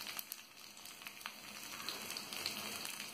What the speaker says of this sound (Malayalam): വറ്റൽ മുളക് എടുത്ത് വെച്ചിട്ടുള്ള വറ്റൽ മുളകിനെ ഇട്ട് കൊടുക്കാം